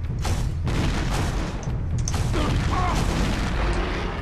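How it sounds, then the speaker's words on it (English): Rapid, loud explosions and gunfire fill the Turok: Dinosaur Hunter video game scene, with a dense continuous barrage of blasts, some sharper bursts mid-way, and no pauses. "these explosions have random colors all of a sudden"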